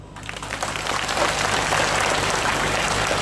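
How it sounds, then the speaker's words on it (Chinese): An audience at a public talk in a coffee shop breaks into applause that swells over the first second and then holds as steady clapping, with a low hum underneath. "听过的拍手。"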